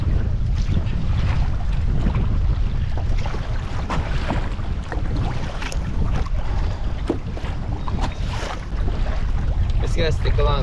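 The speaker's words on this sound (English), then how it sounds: "A lot of wind, a lot of wind." Strong wind roars across a lake during a backcountry canoe trip, a steady loud rush of wind noise buffeting the microphone throughout, with faint water sounds beneath.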